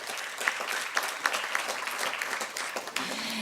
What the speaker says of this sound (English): may I invite a round of applause for all the wonderful panelists and then the moderator